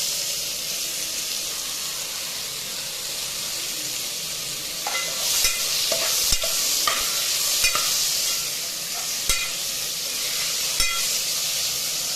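Onions frying in a pan until brown: a steady, close hiss and sizzle broken by repeated spatula scrapes and taps.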